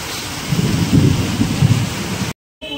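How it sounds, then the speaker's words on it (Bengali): Low thunder rumbles through a heavy downpour, swelling and fading, before the sound cuts out abruptly near the end. "তার সাথে মেঘও ডাকছে ভীষণ।"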